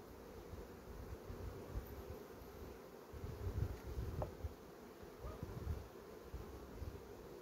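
Honey bees swarm and buzz around a hive during feeding with honey, protein and syrup, a steady dense drone rising and falling, close and continuous, with light wind noise and no talk.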